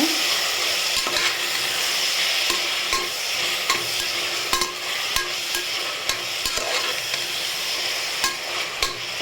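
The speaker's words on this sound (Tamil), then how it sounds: "இஞ்சி பூண்டு பேஸ்ட் சேர்த்துக்கலாம் அதையும் சேர்த்து நல்லா வதக்கிக்கோங்க" Ginger garlic paste sizzles and fries steadily in a pan for a prawn biryani, with scattered clicks of a spoon stirring and scraping through the paste; close and continuous, no talking.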